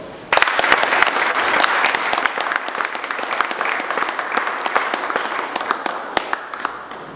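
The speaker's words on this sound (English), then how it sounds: "Round of applause." Audience applause at a talk show honoring women, bursting in suddenly and continuing as a dense, lively wash of clapping from a fairly close crowd.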